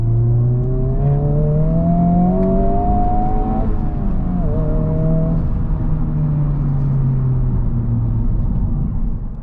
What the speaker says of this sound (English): the exhaust noise and the engine noise is enhanced by the stereo system